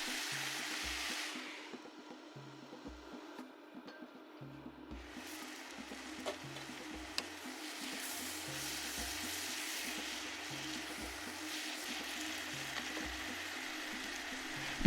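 Mixed vegetables sizzle steadily in a pan while being cooked for a creamy pasta, a constant close frying hiss with a faint repeating low tone underneath throughout.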